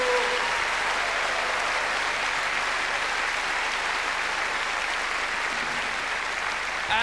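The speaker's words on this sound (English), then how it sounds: "Would you please now give a rousing round of applause to Mr. Don Hunt" A live-show audience gives the orchestra and its leader a dense, sustained round of applause, a loud even roar of clapping that holds steady throughout with no voices heard.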